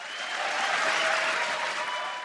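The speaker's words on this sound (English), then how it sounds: "if we can put a little cheer in the audio" A burst of cheering applause, added as a sound effect, swells and holds as a dense, even clatter of many clapping hands for a couple of seconds.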